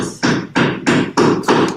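Loud, regular construction hammer blows inside a building, five heavy thuds about a third of a second apart, ringing nearby with no talking.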